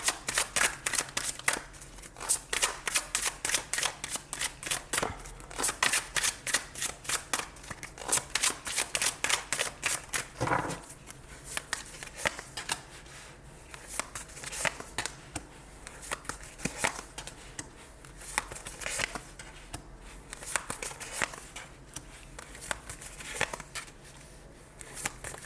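Oracle cards being shuffled by hand during a reading, close and crisp, with repeated rapid riffling bursts that come in quick regular runs at first and then become looser and more scattered.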